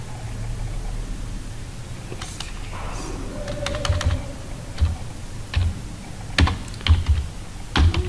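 Someone types a database name into SQL Server 2012 on a computer keyboard: scattered, uneven keystrokes, clicking sharply and closely over a faint steady background hiss.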